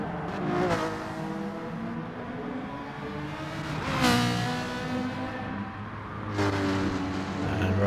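A Ferrari race car engine in a racing video game, revving and rising in pitch in repeated surges, loud and continuous with other cars audible around it.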